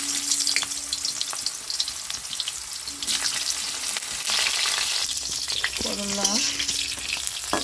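Bitter gourd (karela) pieces frying in hot oil in a kadai, a steady crackling sizzle with occasional stirring scrapes and brief clinks, close and continuous throughout.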